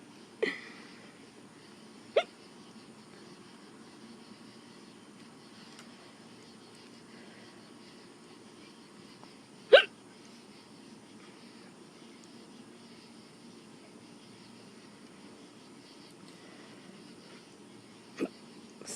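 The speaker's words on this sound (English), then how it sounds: "Stop, hiccups. Stop it." Hiccups sound as four short, sharp isolated bursts spread irregularly over a quiet room background, with long silent gaps between them.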